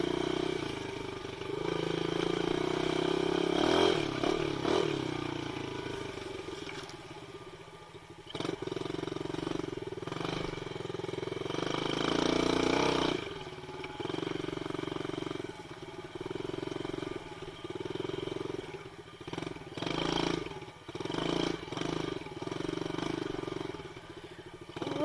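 A dirt bike engine roars and revs continuously while being ridden and pulled into wheelies, with rising and falling throttle bursts, loud and close throughout.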